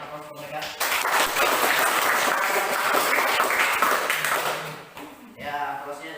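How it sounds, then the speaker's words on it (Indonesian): Classroom applause for group 4 after their presentation during a teaching performance test lesson, a dense burst of clapping from students that swells quickly, holds steady, then fades before a brief renewed patter. "jadi berikan aplaus untuk mereka"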